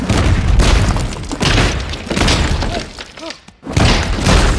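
Luigi's Mansion 3 gameplay with the Slam attack: a burst of heavy booming thuds and crashing, shattering impacts, loud and busy, with short bright chimes near the end.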